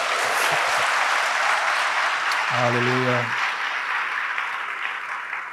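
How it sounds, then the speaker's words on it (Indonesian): A church congregation applauds for God during a sermon, with dense, steady clapping throughout; a single voice calls out briefly in the middle. "Berikan tepuk tangan kita untuk Tuhan kita"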